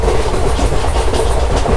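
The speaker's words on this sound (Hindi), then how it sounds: "ट्रैक साउंड कितना आ रहा है।" Train wheels clatter loudly on the Konkan Railway track, a dense continuous rattle and rumble heard up close from aboard a moving express.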